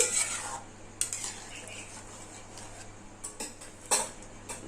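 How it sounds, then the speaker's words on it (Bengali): A spoon scrapes and clinks against a pan as curry is mixed into a spice tempering, several sharp metallic taps standing out over a quiet background with no talk. "এবার ফোড়নের সঙ্গে তরকারি খুব ভালোভাবে মিশিয়ে দিলাম।"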